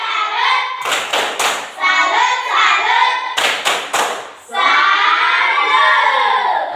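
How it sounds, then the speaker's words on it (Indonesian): An Indonesian primary school class performs a rhythmic salute clap together, sharp bursts of hand claps in short patterned groups with children's voices and chatter filling the gaps between them. "Tepuk salut untuk teman dulu."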